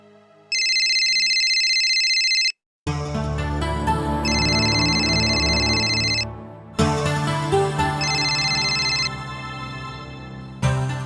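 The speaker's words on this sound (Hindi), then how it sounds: "किसका फोन था बेटा?" An electronic phone ringtone chirps in repeated high bursts over a loud melodic backing, pausing briefly before ringing again several times.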